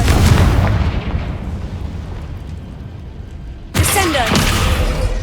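In Hogwarts Legacy, a Confringo blasting spell hits with a sudden loud explosion late on, following a stretch of rumbling game ambience, and the crackling blast carries on to the end.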